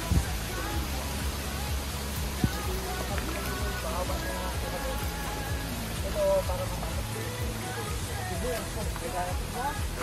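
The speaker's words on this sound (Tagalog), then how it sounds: "Lakas ng ulan." Heavy rain falling steadily, a dense, constant hiss of downpour drumming close by on surfaces, with occasional louder drops and knocks throughout.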